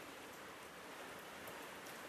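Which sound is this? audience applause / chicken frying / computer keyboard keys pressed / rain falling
rain falling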